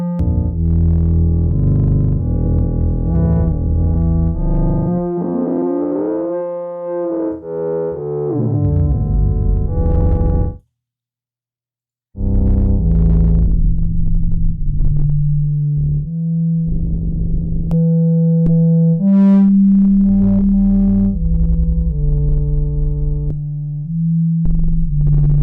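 Bitwig 5.1 synthesizer tones from a sine wave with sweep and filter effects shift and sweep with buzzy, filtered harmonics, pitches gliding and stepping over a sustained low note, cutting out briefly midway before resuming.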